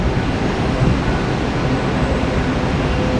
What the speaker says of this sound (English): This is our train coming in now